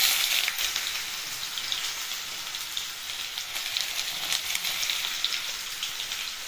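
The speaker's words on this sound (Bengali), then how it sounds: "এই কুচনো পেঁয়াজটা দিয়ে দেব।" Chopped onion frying in a pan for a Bangladeshi duck curry, a steady dense sizzle and crackle like rain that holds throughout, close and fairly loud with no talking.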